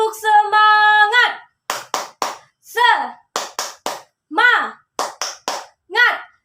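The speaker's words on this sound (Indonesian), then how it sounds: "Kita lakukan tepuk semangat." A classroom of children performs a rhythmic "tepuk semangat" clapping routine, with sharp bursts of clapping and chanting in a patterned beat after a sung opening; young voices shout along between the claps.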